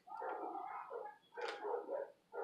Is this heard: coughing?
no